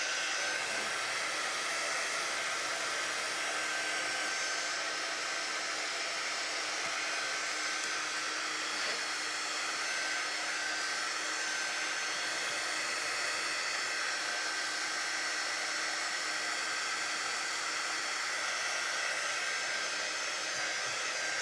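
A hair dryer blows steadily on painted wreaths on a tray, making a constant close whooshing hum with no change in pitch and no talk.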